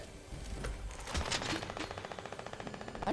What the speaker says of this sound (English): There's gunfire going on in the city.